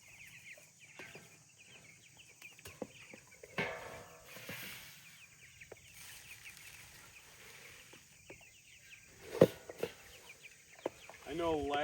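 Meat chickens cluck and chirp while being moved to pasture, a scattered chorus of soft calls with knocks and handling noises, and a voice briefly heard.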